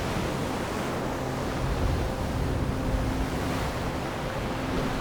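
Ocean surf washing steadily, a broad continuous hiss of breaking waves with some wind, constant and fairly loud, no voices.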